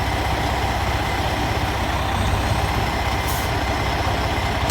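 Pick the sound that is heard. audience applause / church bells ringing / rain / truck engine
truck engine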